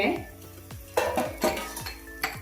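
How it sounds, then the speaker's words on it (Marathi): A lid comes off a cooking pan of tender jackfruit thalipeeth with a few sharp metallic clanks and clinks, close and moderately quiet over a faint background hiss. "आता मी झाकणं काढते"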